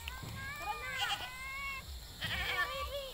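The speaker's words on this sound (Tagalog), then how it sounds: "Mga kambing yan." Goats on a rural Philippine farm, including a kid, bleat twice in wavering calls, each lasting about a second. A voice can be heard nearby.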